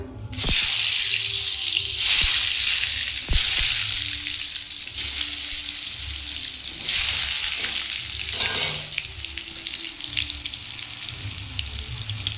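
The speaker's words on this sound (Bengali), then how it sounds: "দেখুন তেলটা আমার গরম হয়ে গেছে আমি এবার আলুগুলো ভেজে নেবো" Salted, turmeric-coated potatoes frying in hot oil, a loud continuous sizzle broken by sharp clatters and splashy bursts as pieces are dropped in and moved, no voices.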